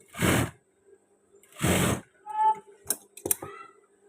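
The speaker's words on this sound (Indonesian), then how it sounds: "Ini kita kunci jahitan." Short bursts from a sewing machine lock-stitching a trouser seam, two separate runs of stitching with a gap between them, followed by clicks and light mechanical handling noises.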